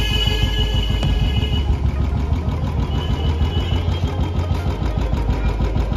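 A faulty motorcycle that keeps stalling idles steadily after being started, warming up its engine with a close, continuous rhythmic chug and no voices.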